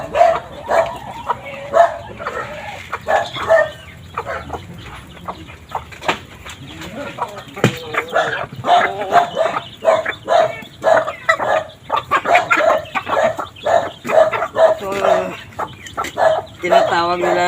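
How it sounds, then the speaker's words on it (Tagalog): Rhode Island Red chickens cluck and chatter in short bursts while a person talks over them, and a dog barks now and then nearby. "Tinatawag nila mga kastig nga Rhode Island mga manok ko."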